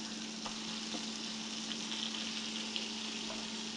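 Venison burgers made with egg sizzle steadily in a frying pan, a continuous close hiss with faint pops and a low hum, and nobody speaking.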